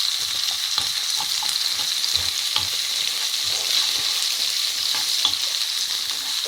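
Onions and chilli frying in a pan over low to medium heat for chilli paneer, a constant bright hiss of sizzling oil with small pops and occasional stirring taps, close and loud.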